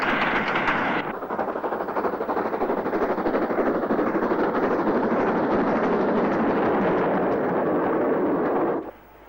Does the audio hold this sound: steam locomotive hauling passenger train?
yes